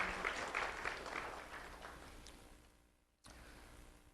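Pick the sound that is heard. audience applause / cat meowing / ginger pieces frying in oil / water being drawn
audience applause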